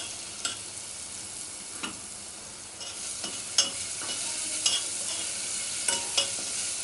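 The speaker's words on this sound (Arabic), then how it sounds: "وهقلبها كويس جدا" A spoon stirs pizza sauce with garlic in a hot pan, giving soft scraping clinks at an irregular pace over a quiet, faint sizzle, with no talking.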